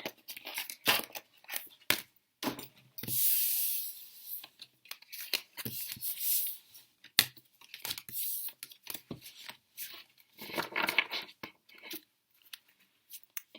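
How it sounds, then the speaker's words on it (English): Tarot cards are shuffled and riffled close up in repeated crisp, papery bursts, with brief pauses between rounds and no talking. "I've just shuffled your cards"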